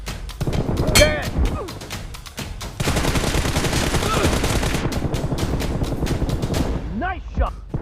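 Rapid automatic gunfire in a team-based video game shooter match, dense bursts of shots rattling almost continuously with short gaps, while game announcer voices call out over the firing.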